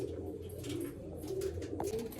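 A male Chotiyal Madrasi pigeon coos softly nearby, its low, rolling calls repeating through the short stretch at a faint level.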